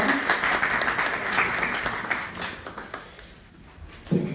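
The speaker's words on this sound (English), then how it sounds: "Let's give him a round of applause." An audience at a mental health awareness week event applauds to welcome a speaker, a lively burst of clapping that thins out and fades before a brief sound at the end.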